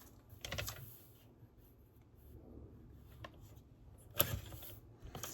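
Craft papers for an outback-themed project being trimmed to size, giving a few soft scraping cuts and rustles, close and quiet, with a sharper snip toward the end.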